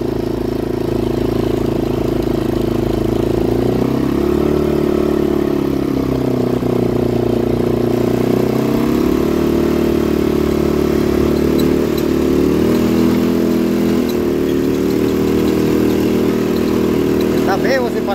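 Motorcycle climbing a rough dirt road near Valparaíso, its mid-pitched engine droning steadily and shifting pitch as it revs and eases over the uneven surface, with someone talking over it.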